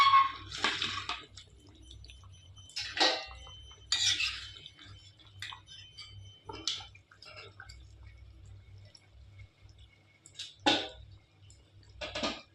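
Pieces of boal fish slip one at a time into a bubbling curry broth, each landing as a soft wet splash spaced several seconds apart over a quiet low simmer.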